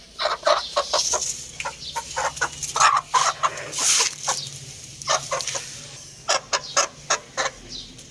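A hen clucks in short, repeated bursts, loud and close, with uneven pauses between clusters of clucks and no talking.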